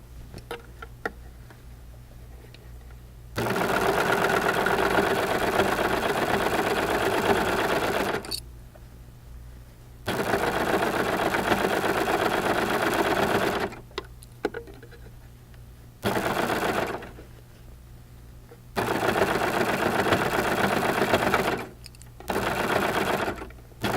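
A Baby Lock serger stitches pillow fabric in several loud, steady whirring runs, each lasting a few seconds, separated by short quiet pauses with faint handling noises.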